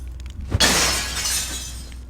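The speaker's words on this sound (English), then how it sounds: "I'm sure that that lady friend of yours will enjoy your taste in smashed glass." A glass window smashed in the video game Thief 2: The Metal Age, a loud sudden crash followed by a bright, scattering shatter of glass that fades over a second and a half above a low hum.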